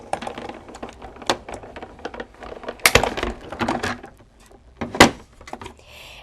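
A manual die-cutting machine cranks paper through a sandwich of A, B and C plates, giving a run of close, irregular clicks and ratcheting knocks with several sharper cracks and brief pauses, and no speech.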